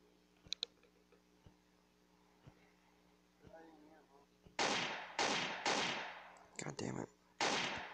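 Sharp bursts of video game gunfire crack out in quick clusters, loud and close after quieter clicks and faint shots, with a player cursing over them.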